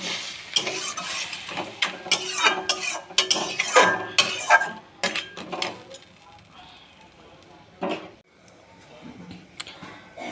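Water poured into a pan of masala-fried sea crabs, with hissing sizzle, scraping stirs and metal clatter from the pan in bursts, easing to a quieter simmer before one more sharp clank.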